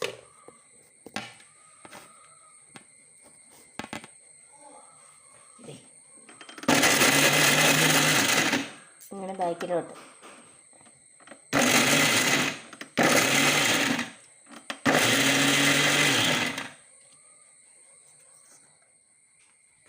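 Mixer grinder jar crushing jackfruit seeds in several short bursts, each a loud whirring grind lasting one to two seconds, with quiet gaps in between.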